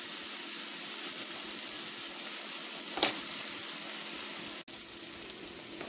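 Pork schnitzel fries crisp in a pan with a steady, close sizzling hiss, a brief louder crackle partway through and a short break near the end before the frying continues.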